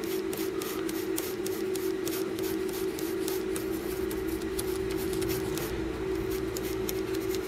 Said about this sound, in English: So I've got the fiberglass pen here. Let's just gently go over the connections here.